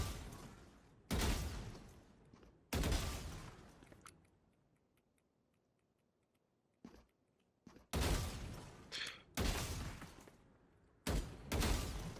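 Sharp, sudden gunshots ring out in a competitive first-person shooter during aim practice, with a few loud isolated blasts followed by decaying tails. Near-silent gaps of several seconds separate them, and some quicker double shots appear toward the end.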